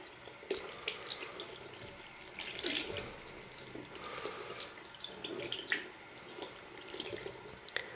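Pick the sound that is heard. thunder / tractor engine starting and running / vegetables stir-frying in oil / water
water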